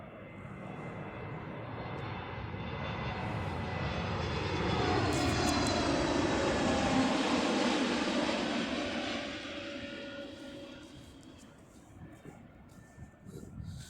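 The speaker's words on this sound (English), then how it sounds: "I think it's another Airbus A320 plane." A Jet2 Airbus A320 passes on its landing approach, its engine roar rising from a distance to a loud, broadband peak before fading away, with a faint voice near the end.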